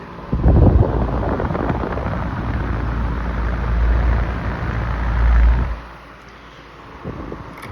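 A 1949 Emerson electric fan winds down from high speed, a loud broadband whoosh of blades that holds steady, then drops off sharply and settles into a faint, quiet tail.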